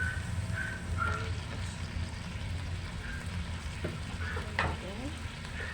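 Chicken Sprite adobo frying and sizzling in a pan as it dries out, a steady close hiss with scattered pops and light stirring, continuous and even in level, with no talking.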